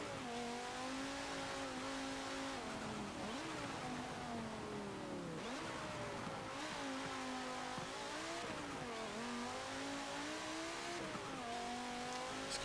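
A 2011 Audi RS 3 Sportback in Forza Motorsport 7 drives hard, its engine droning steadily and rising and falling in pitch through shifts and corners, loud and continuous throughout.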